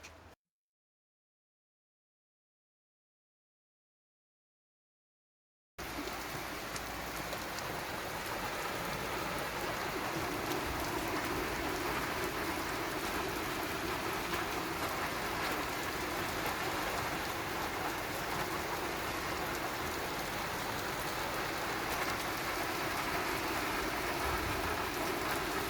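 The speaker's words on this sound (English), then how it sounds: "rain is falling" Steady rain pours down after a stretch of silence, a dense, even hiss of drops on surfaces that continues unbroken and fairly loud to the end.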